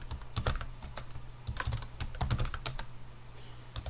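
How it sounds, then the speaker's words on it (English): Rapid keystrokes on a computer keyboard as a plain-text password is entered on a network device, a quick burst of close, crisp clicks that pauses briefly and then resumes. "And then just type in the password."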